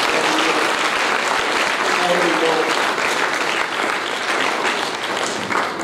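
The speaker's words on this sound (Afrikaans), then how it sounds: "Klap vir Jesus," A church congregation applauds during an Afrikaans service, producing a loud, continuous wall of clapping that holds steady for several seconds without any break.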